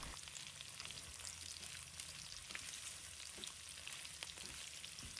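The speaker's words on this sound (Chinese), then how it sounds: "把肉和咸鱼、姜蒜炒在一起" Pork stir-fried in a wok with salted fish, ginger and garlic, a steady hissing sizzle with faint scraping of the spatula, heard close and alone with no talk.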